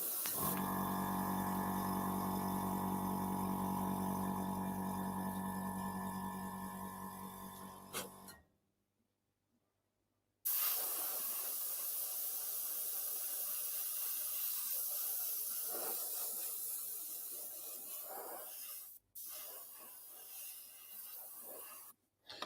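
An airbrush sprays Tamiya lacquer paint in a steady, loud hiss that runs for about eight seconds, cuts out to silence, then resumes with a rougher, uneven airflow punctuated by brief breaks.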